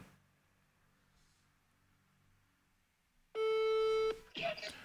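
An outgoing phone call gives a loud electronic tone for under a second after a quiet stretch, then a short burst of brighter sound follows.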